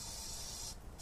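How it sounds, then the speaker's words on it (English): Heavy duty grease spray can hissing steadily in a continuous, fairly faint spray that breaks off briefly near the end, then resumes. "my very good heavy duty greaser spray here"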